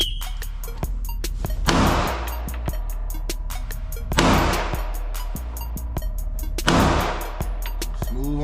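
Handgun shots fired at a target on a training range, a few loud sharp reports spaced several seconds apart, with clicks and handling noises between them.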